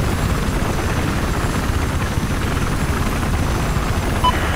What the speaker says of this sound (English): There's a hostile helicopter north of your current position.